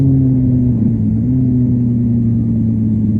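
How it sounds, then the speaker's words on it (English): A motorcycle engine revs with a throttle blip during a sloppy downshift with a slow clutch release, giving a steady mid-low engine drone that sags slightly rather than rising sharply, loud and close. "he's revving the motor, but the clutch release is so slow he loses all the revs from his throttle blip"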